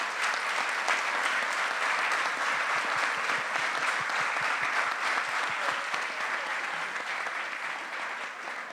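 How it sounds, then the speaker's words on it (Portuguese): A crowd applauds two guests, Elson and Vilma, at the opening of the 'Zumví Arquivo Afro Fotográfico' exhibition at IMS Paulista. The clapping is steady and sustained and fills the room, then eases slightly toward the end. "Uma salva de palmas para os dois."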